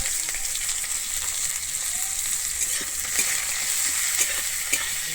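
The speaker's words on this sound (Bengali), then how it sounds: "আমি পেঁয়াজটা দিয়ে কিন্তু ভেজে নেব" Onions sizzle and crackle steadily in hot oil, a continuous loud frying hiss with faint stirring.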